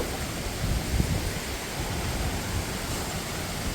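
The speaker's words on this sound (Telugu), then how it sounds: "ఫుల్ గాలి అయితే మాత్రం తీవ్రంగా ఉందండి" Strong cyclone wind roars steadily and loudly on a building rooftop throughout, a dense broadband rush with low buffeting gusts and no voices.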